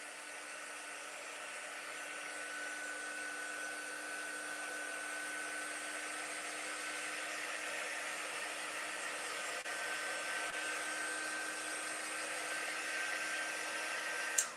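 A hair dryer blows steadily on freshly painted chalkboard paint, a continuous close, even whir with a faint tonal whine that holds for the whole stretch and cuts off abruptly at the end.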